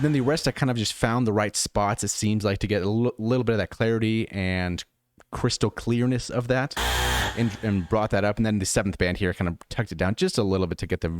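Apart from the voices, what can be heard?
No everyday noises stand out.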